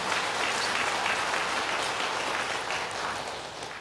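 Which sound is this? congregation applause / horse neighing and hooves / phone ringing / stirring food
congregation applause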